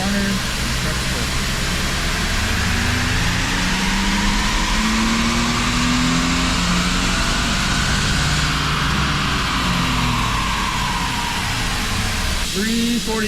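A high-mileage Ford EcoBoost engine revs under load on a dyno pull in fifth gear, a loud steady drone with rising pitch that climbs throughout, continuous and close, with a voice speaking briefly over it.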